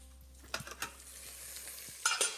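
Carrots frying in a pan, a soft, steady sizzle with a few sharp scraping stirs early on and a louder burst of crackling near the end, close and without talking.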